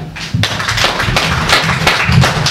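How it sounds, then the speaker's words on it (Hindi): Brief round of hand clapping from a group of trainees at a Jal Jeevan Mission training-of-trainers session indoors, dense overlapping claps with thuddy hits, steady and fairly loud throughout. "इस ग्रुप के लिए तालियां"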